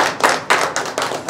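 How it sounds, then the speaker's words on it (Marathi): Audience clapping to welcome a newly appointed secretary of a community association, a few loud, close, rhythmic claps in quick succession. "त्यांचं सर्वांनी टाळ्या वाजवून अगोदर स्वागत करणं गरजेचं आहे"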